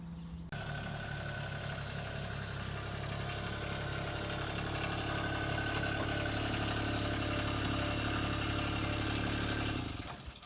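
A Toro Dingo mini skid steer engine idles steadily with an even, throbbing mechanical drone that holds close and constant, then stops near the end.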